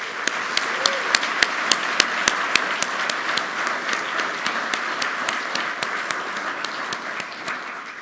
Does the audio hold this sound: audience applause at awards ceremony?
yes